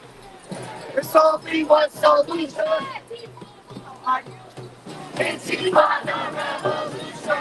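Protest crowd on a New York street chanting a rhythmic cheer in unison, loud and close, with bursts of shouted syllables rising and falling and some nearby talk mixed in.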